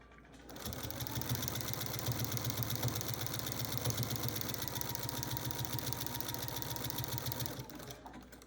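A domestic sewing machine quilts a quilt, running steadily for about seven seconds with a fast, even mechanical chatter and hum that starts and stops cleanly, close and alone without speech.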